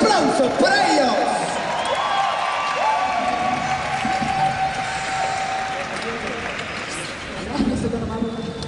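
An arena audience at a music festival applauds and cheers for a dance troupe, a dense wash of clapping and whoops with an announcer's voice over it.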